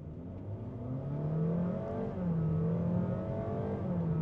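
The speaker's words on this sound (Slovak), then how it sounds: "Pozrieme si dynamiku, mám tu športový režim," A 2025 Honda HR-V e:HEV hybrid accelerates at full throttle in sport mode, its engine droning steadily and rising in pitch with simulated gear-shift dips, heard from inside the cabin.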